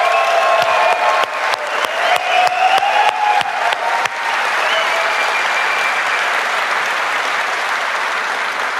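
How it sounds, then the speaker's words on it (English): Audience applause at a Destiny 2 reveal event, starting with scattered sharp claps that swell into a dense, sustained roar of clapping from a large crowd. "So let's hear it for Luke and Steve and Emmy and Mark"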